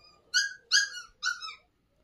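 Abandoned puppies whimper in three short, high, tonal cries spaced about half a second apart, close and fairly quiet against a silent background.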